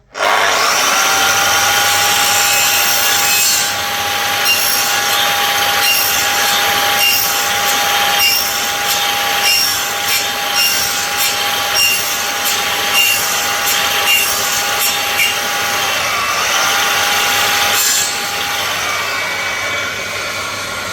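A saw cuts through a wooden sash window rail held on a workbench, giving a loud, steady rasping that runs continuously for most of the clip with slight stroke-to-stroke variation and no talking.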